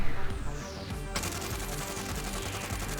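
Krig 6 assault rifle firing in Warzone, a sustained rapid automatic burst with dense, loud repeating shots, preceded by a brief gap and sweeping game sounds at the start.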